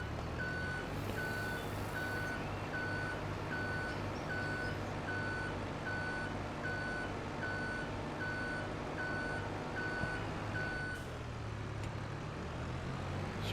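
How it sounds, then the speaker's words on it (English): A truck reversing in Farming Simulator 25, its evenly spaced backup beeps repeating over a constant engine drone, then cutting off near the end while the engine keeps running. "Okay, let's put the full truck back."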